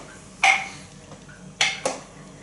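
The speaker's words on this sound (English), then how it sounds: "Give that a stir, it smells amazing." A spoon scraping and knocking against the pot of a slow cooker while stirring balsamic beef stew, three short metallic clinks spaced apart in an otherwise quiet kitchen.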